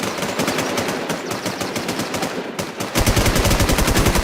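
Video game gunfire rattles in loud, rapid automatic bursts, nearly continuous and growing heavier toward the end, with no talking over it.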